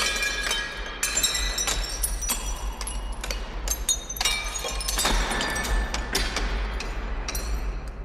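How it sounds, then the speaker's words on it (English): Glass from windows shatters repeatedly, a series of sharp crashes and bright tinkling shards scattered irregularly throughout, with clinking debris between impacts over a low steady rumble. "learn the sound of windows breaking"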